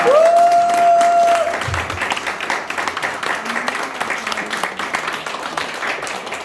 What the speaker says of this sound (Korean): 우리가 일어나서 인사하실 때 한번 박수로 환영해주시면 감사하겠습니다.